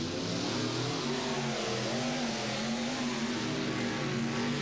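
Monster trucks, including King Kong and the Carolina Crusher, race at a 1990 Bowling Green event, their engines roaring continuously and loudly with a sustained revving drone across the whole stretch.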